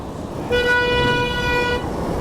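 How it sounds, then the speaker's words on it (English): A car horn honks once in traffic, a loud close toot lasting over a second with a bright steady tone above the road rumble. "Beep beep."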